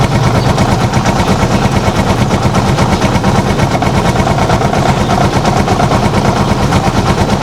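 A Chariot 175 motorcycle engine runs steadily at idle, a loud, continuous low throbbing pulse with rapid even firing beats and no voices.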